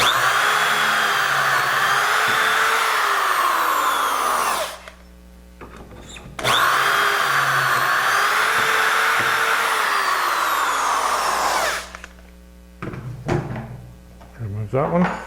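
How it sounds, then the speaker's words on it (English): A power drill bores dowel holes through a Dowelmax jig into a triple-workpiece wood joint, two loud sustained bursts close by, each winding down and followed by quiet handling clicks. "Now this time we're drilling 1 and 2."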